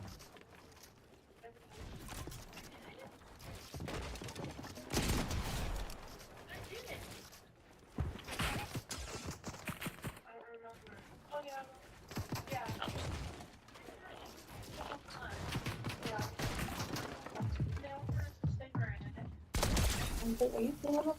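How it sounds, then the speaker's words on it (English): Gunfire in the Fortnite video game, scattered bursts of shots and impacts mixed with game effects, heard beneath near-constant talk between players. "there's a kid shooting on you"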